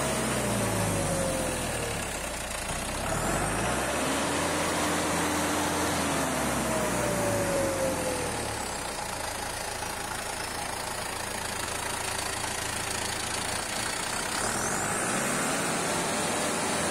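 A John Deere 5078 tractor engine fitted with a turbo and intercooler kit runs steadily and loud, its diesel drone rising and falling with audible turbo whine and pitch sweeps, and nobody talks.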